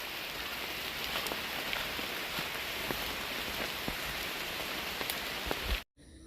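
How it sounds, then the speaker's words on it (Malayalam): Heavy rain falls steadily on surfaces during a rainy-day fishing outing, a dense close hiss with scattered individual drop hits throughout, cutting off briefly near the end, with no talk. "ഭയങ്കര മഴയാണ്"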